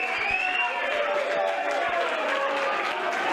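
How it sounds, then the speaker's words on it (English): A boxing-event audience claps and cheers for boxer George Tierney, a dense, steady wash of applause and crowd noise with voices mixed throughout. "Give me a big round of applause for George Tierney."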